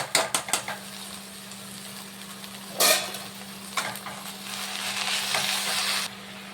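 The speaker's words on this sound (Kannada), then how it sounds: "ನುಗ್ಗೆ ಸೊಪ್ಪನ್ನ ಚೆನ್ನಾಗಿ ಆಯಿಲಲ್ಲಿ ಫ್ರೈ ಮಾಡ್ಕೊಬೇಕು" Drumstick leaves sizzle in hot oil with fried onion and green chillies in a pan for an egg stir-fry, opening with a few quick spoon knocks against the pan, then a steady sizzle with stirring scrapes and a low background hum.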